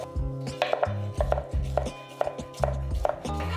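A knife finely chops cucumber on a board in a steady run of crisp, close taps, about a dozen strikes in short irregular bursts, with no talking.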